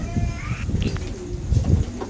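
Pigeons coo in low, soft repeated calls at close range, with other birds chirping faintly and some background noise; these are Bengali fancy pigeons with long necks.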